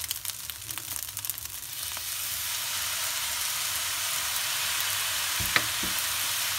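Chinese-style fried rice (chaufa) sizzles in a hot pan after soy sauce goes in, a steady close crackling hiss with a few soft knocks of stirring near the end and no voices.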